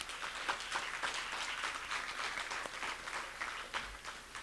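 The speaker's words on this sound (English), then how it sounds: "let's give them another round of applause" A symposium audience gives the judges another round of applause: a steady, moderately loud patter of many hands clapping continuously throughout, with no voices over it.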